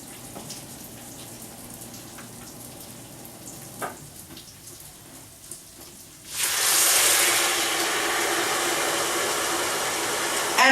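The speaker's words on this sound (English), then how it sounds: "So what I'm going to do is add my chicken stock." Chicken stock poured into a hot pan of sizzling rice for Peruvian arroz con pollo, a sudden loud rush of hissing sizzle that jumps in partway through and stays strong, after quieter kitchen sounds.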